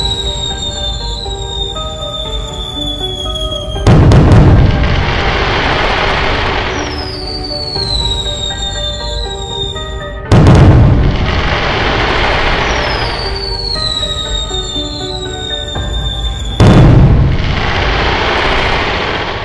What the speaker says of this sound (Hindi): और फिर ये लोग फिर से पटाखे फोड़ना शुरू करते हैं